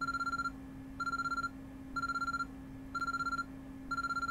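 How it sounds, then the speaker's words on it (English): An urgent electronic alarm rings through a hospital room in a video game, repeating bursts of rapid trilling beeps about once a second with short gaps over a steady low hum. "An urgent-sounding ringing noise suddenly rang throughout the room."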